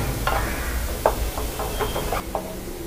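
Aloo paneer kofta masala gravy bubbles and sizzles in oil in a pan, a steady frying hiss broken by a handful of soft pops and stirring scrapes.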